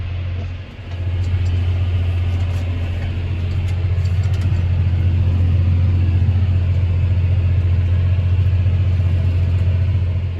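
A tractor pulls a pressure harrow across a ploughed field, making a steady, loud low engine rumble that dips briefly at the start and then holds constant, with no talking.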